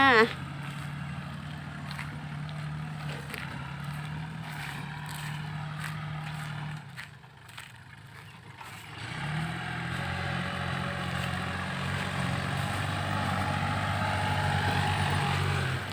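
A tractor ploughing a rice field, a steady low engine drone running throughout, dipping briefly midway then returning stronger, with a person talking over it.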